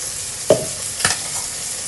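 A spoon stirs a blended paste of tomato, onion, ginger and green chili in a cooking pan, making two short, distinct scraping strokes about half a second apart against a quiet background.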